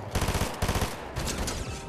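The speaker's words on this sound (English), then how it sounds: "my gun auto shot again" Automatic gunfire in a shooter video game, rapid rhythmic bursts of shots in three short strings with brief gaps between, loud and close, no talking.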